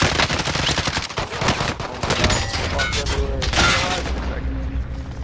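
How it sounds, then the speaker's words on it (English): Dense video-game gunfire, a fusillade of rapid machine-gun bursts and booming shots, loud and nearly continuous throughout, with a player's voice talking over it. "they're up there shooting at me"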